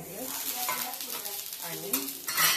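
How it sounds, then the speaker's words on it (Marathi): Oil sizzles steadily on a hot tava for thalipeeth, a close, continuous crackling hiss with a few louder bursts toward the end. "तव्यावरती थोडंसं असं तेल टाकायचं"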